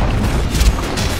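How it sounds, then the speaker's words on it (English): A Dota 2 tower destroyed in game, a short, heavy, low booming crash that fills the moment with rumbling noise, heard alone without talk. "Dire's middle tower has fallen."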